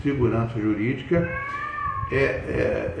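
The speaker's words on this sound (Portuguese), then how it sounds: "Isso são as minhas gatas. Essa hora elas ficam caçando, né?" Pet cats meow repeatedly in drawn-out, rising and falling calls, close and clear, with a person talking over them.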